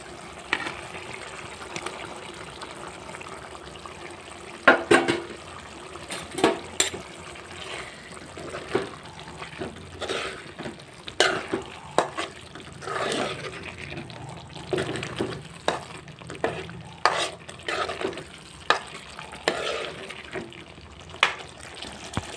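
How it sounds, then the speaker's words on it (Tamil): Paneer pieces are stirred into a thick paneer masala gravy in a pan, giving irregular wet, sloshing squelches and clacks that come and go over a low background. "இப்போ பன்னீரை போட்டு கலந்துக்கலாம்."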